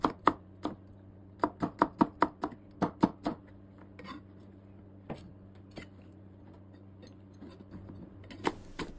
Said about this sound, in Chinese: 大蒜切成片儿